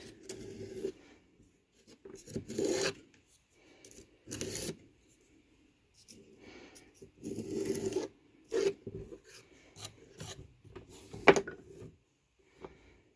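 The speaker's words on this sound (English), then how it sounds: "Because the clay's stretched out, I'm just going to recut that." A tool cuts through a stretched slab of pottery clay in short scraping, rasping bursts with quiet gaps between them, faint and close, no talking.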